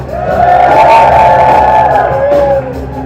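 Loud concert crowd at a club show by a band in Shirley, Massachusetts, roaring and yelling in one sustained wave of whoops and shouts that eases off near the end.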